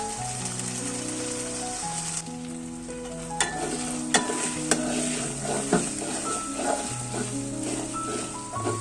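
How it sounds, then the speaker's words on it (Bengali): Ginger-garlic paste stir-fries in a pot for beef haleem, a steady sizzle broken by a few sharp scrapes and clinks of the spoon, with music playing throughout. "আদা রসুন বাটা দিয়ে দিয়েছি এটাকে ভালো করে কষাতে হবে যাতে কাঁচা গন্ধটা চলে যায়"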